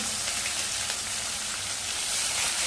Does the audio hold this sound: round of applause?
no